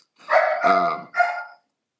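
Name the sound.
small dog yapping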